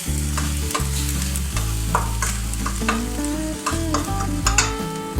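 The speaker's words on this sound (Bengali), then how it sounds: "আরেকটু আমি ফ্রাই করে নিচ্ছি।" Spice masala fried with mustard paste for a Bengali okra and small-fish chorchori, giving a steady close sizzle while a utensil scrapes and stirs through it in uneven strokes over about five seconds, with a low music-like hum underneath and no talking.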